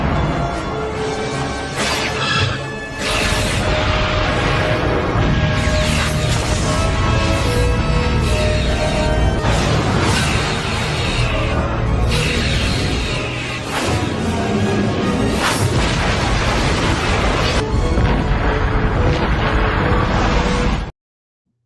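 A Cardassian starship firing its weapons in a Star Trek sound effect: loud, dense, crashing bursts that keep coming in a busy barrage for about twenty seconds, with short dips in between and no talking.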